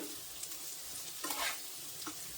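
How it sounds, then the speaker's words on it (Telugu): Nalleru (veld grape) stems fry in oil in a pan, giving a soft, continuous sizzle with a few faint stirring scrapes, quiet and steady with no talking. "ఒక పది నిమిషాలన్నా ఫ్రై చేసుకోవాలండి నల్లేరు కాడలు ఫ్రై అయిపోయాయండి"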